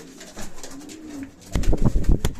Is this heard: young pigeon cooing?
yes